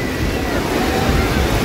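Strong wind and crashing waves on Cox's Bazar beach, a steady broadband roar of surf and gusts buffeting the microphone with no break, loud and close throughout.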